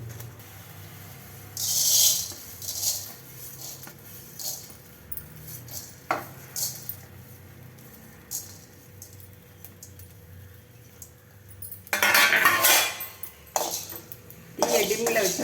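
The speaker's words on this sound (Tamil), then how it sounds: "மல்லியை எண்ணெய் ஊற்றாமல் வறுத்துக்கலாம்" Coriander seeds dry roasting in a pan without oil, heard as intermittent scraping and metallic clatter of a utensil against the pan, with quiet stretches between bursts and a voice talking over parts of it.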